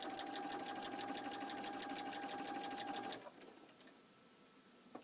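A sewing machine fitted with a walking foot stitches binding onto a quilt, running in a steady rapid whir for about three seconds before stopping, leaving quiet room tone.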